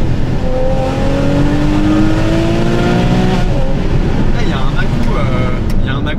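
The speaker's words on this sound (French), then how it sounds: "Et là, il y a un petit test fatidique du son moteur." Porsche 911 Carrera GTS flat-six engine running loud and close, with rising harmonic tones as it accelerates and revs, wind rush over it, and a voice talking.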